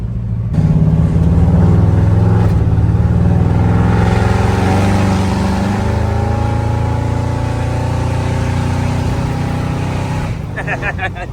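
Chevrolet square body truck with 3.23 gears, its engine revving loud and close, rising and holding a strong rumble before easing off, with a person talking over it.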